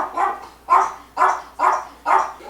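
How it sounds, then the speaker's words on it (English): A neighbouring dog barks angrily five times in a steady rhythm, each sharp bark clear and fairly close, with nothing else in between. "my cat walks on the fence behind me and the dog next door gets angry"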